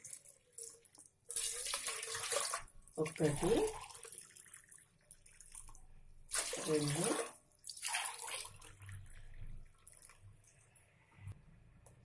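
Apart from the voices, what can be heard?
water being poured into a pot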